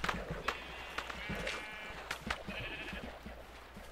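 Sheep bleating in Minecraft, short repeated blocky bleats scattered over a few seconds, mixed with splashing and game noise as the animals jump and swim in water.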